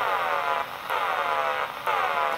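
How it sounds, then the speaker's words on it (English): A radio picks up the switching-frequency signal from a homemade tank-circuit transmitter. It comes through as a loud, buzzy tone that swells and eases in three repeating pulses over a hiss of static. "The frequency that we're hearing from the radio is the switching frequency controlled by the motor."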